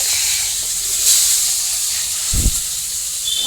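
Onions added to hot oil with cumin and bay leaves in a village kitchen, giving a steady, loud sizzling hiss that holds evenly throughout, with a brief low thump near the middle.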